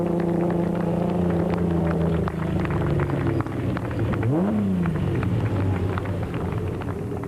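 A Ford Ranger race truck engine in an off-road race, a loud sustained droning rumble with shifting pitch and a brief rising then falling sweep as it passes close.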